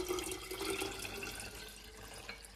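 Plain water being poured into strained tamarind water for pani puri, a steady low splashing and trickling that gradually fades, heard alone at a quiet level.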